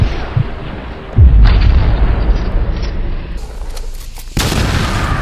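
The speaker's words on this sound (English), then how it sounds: "Throw the grenade" A heavy, booming grenade blast in Fortnite, a deep low rumble that swells suddenly and sustains, followed by a second sharp burst of noise; loud and close, no voices.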